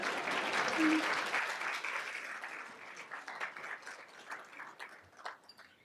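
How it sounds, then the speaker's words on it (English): A large crowd applauds a speaker at a university community unity dinner celebrating MLK Day; a dense wash of clapping starts full, then gradually thins into scattered, fading claps. "you can clap, you can clap."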